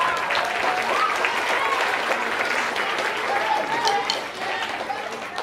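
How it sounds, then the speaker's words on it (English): Parents at a spring band concert break into steady, full applause that fills the room at a moderate distance and tapers off slightly near the end, with a voice speaking faintly over the crowd. "You can give yourselves a round of applause."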